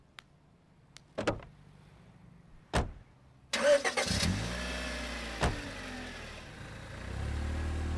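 A car engine cranks and starts with a sudden roar, then idles and pulls away, the engine sound steady and close, preceded by a few sharp thuds like doors shutting; no one speaks.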